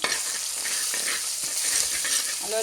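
Fish curry being stirred after adding pepper-garlic paste, a dense close hiss of bubbling liquid with faint scraping of a spoon in the pot.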